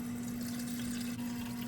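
A KitchenAid/Whirlpool under-counter ice maker filling with water: steady rushing flow with a constant low electrical hum from the unit, heard close and continuous without voices.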